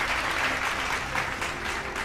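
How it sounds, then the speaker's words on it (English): Audience applause at a healthcare leaders' summit in India: a steady, dense wash of clapping from a large indoor crowd, sustained throughout without any speech. "Can we have a round of applause for the moderator?"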